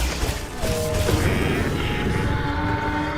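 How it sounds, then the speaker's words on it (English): An explosion in Monster Hunter Wilds lands as a loud, heavy booming rumble with crashing debris and a sustained low roar, and a short whining tone rises partway through. "I love the explosion sound"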